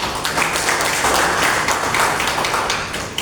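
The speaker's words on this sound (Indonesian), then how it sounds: "Berikan aplaus." An audience at a union meeting of PT Angsa Daya gives dense, steady applause, many hands clapping together for a few seconds before the clapping thins slightly at the end.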